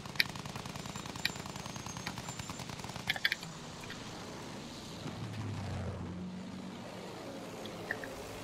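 Gunfire from a weapon in Battlefield 1, quick bursts of shots crackling over a low rumbling battlefield drone with engine noise, the shots fading out midway and then returning as a few sparse pops.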